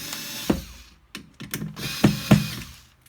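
Parkside cordless screwdriver driving a screw, heard close up as short whirring bursts and ratcheting mechanical clicks that start and stop several times, with no talk.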